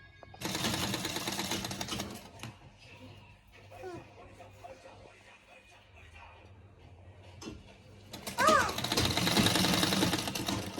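A sewing machine stitches a sleeve in bursts, with a steady rapid mechanical whir at the start and again near the end and quieter handling sounds between; a voice talks over part of it.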